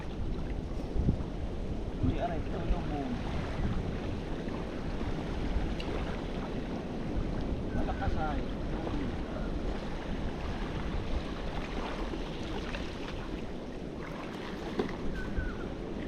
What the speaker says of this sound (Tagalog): malakas ang hangin ay.